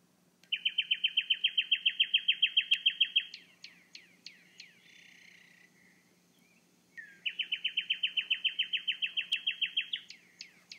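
A northern cardinal sings recorded song: two clear bouts of rapid, evenly repeated whistled notes, each lasting a couple of seconds and ending in a few sharper chirps, separated by a brief softer pause.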